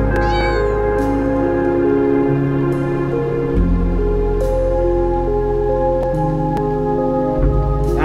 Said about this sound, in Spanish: Ahí está el gato otra vez, ¿verdad?